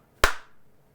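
A single sharp hand clap, close and loud, sets off an original 1984 Clapper sound-activated switch, with a brief decaying ring after the hit and no talk.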